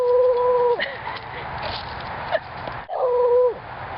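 A beagle lets out two drawn-out, high whimpering whines that slide downward in pitch, close and clear, separated by a quieter stretch of soft background noise.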